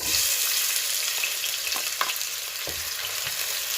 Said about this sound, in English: So I already have my oil, so I'm going to add my onions